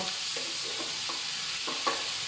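Minced pork is stir-fried in a hot pan for Thai basil pork, with a constant sizzle broken by several scraping strokes of a spatula, close and fairly loud.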